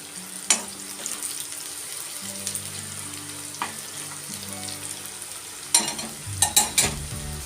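Onions frying in a pan for mutton curry, stirred with a spatula: a low sizzle runs throughout, broken by several scraping stirs and clatters against the pan, near and fairly loud, with a cluster of quick strokes near the end.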